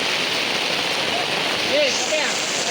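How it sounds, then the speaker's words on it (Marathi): Heavy rain falls steadily during a hike, a loud, dense hiss filling the whole stretch, with faint voices briefly audible beneath the downpour. "मित्रांनो हे बघा पाऊस पडता भयंकर"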